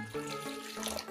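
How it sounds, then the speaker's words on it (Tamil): Warm water runs and pours steadily into a bowl of tamarind in a home kitchen, a close, continuous trickling splash with shifting pitch as the bowl fills. "வெதுவெதுப்பான தண்ணி போட்டு"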